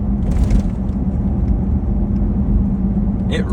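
Pickup truck on an S&B 4.5-inch suspension lift driving over a rough road, a loud continuous rumble of engine and tyres with road noise, and a brief clatter near the end.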